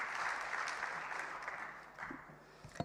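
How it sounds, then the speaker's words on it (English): Applause at a budget review dinner for a guest speaker, a crowd clapping steadily at moderate distance and gradually thinning out toward the end. "Please give her a massive round of applause."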